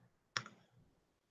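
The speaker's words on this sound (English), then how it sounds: "The voice fades and you hear the clicking noises." A single sharp click with a short echoing tail, heard alone in a quiet corridor.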